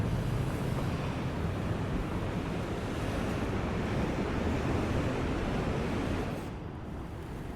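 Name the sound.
sea waves smashing against the seawall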